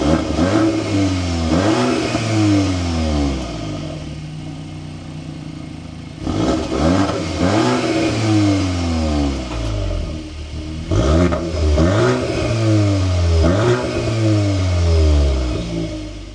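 A 2025 Volkswagen Golf R engine starts and is revved repeatedly, its loud, close engine note sweeping up and falling back in several bursts.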